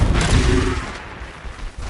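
Confringo blasting spell exploding in the video game Hogwarts Legacy, a short heavy boom with a crackling burst that quickly fades into a low rumble.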